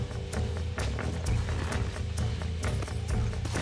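Horse in the video game Red Dead Redemption clip-clops with rapid, steady hoofbeats over an animated western score, the galloping rhythm loud and continuous throughout.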